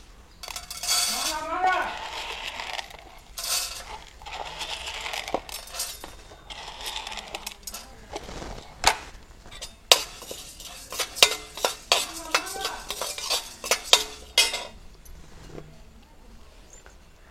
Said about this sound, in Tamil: கடலைப்பருப்பை வறுத்துடும்.